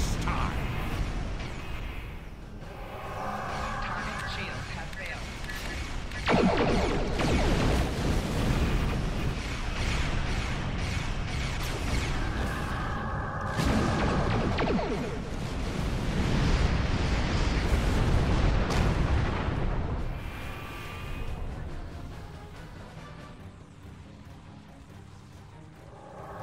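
Starship weapons fire and explosions rumble through a Star Trek Online space battle against Klingon vessels, with repeated booming blasts and sustained loud roaring. A voice speaks over parts of the barrage.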